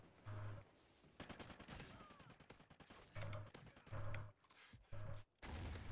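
A Remington fires in Call of Duty: Ghosts, giving repeated sharp gunshots in quick bursts with mechanical clicks between them, amid a busy mix of other battle gunfire.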